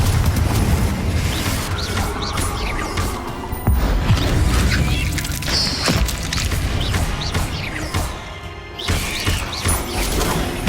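Spell blasts from Hogwarts Legacy, Confringo and Glacius, fired during a fight with a giant spider: dense, loud booms, crashes and thuds pile up in rapid bursts over a rumbling low backdrop, with no pauses.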